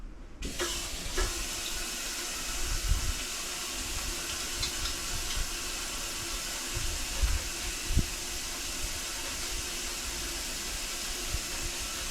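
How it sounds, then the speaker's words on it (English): Tap water runs steadily into a sink during handwashing, a continuous close hiss with faint splashing and no voices throughout. "I'm just going to wash my hands real quick"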